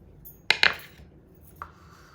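Diced pineapple tipped into a salsa mixing bowl, two quick close clinks of a utensil against the bowl and then one lighter tap, with quiet room tone between and no talk.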